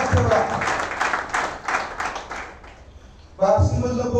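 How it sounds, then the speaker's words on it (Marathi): Audience applause at an NTC award gathering in Latur, honoring a first lady member who joined from Latur district, brisk clapping sustained for about three seconds, fading, then a fresh burst starting up near the end. "त्यांच्यासाठी खरं टाळ्या झाल्या पाहिजे."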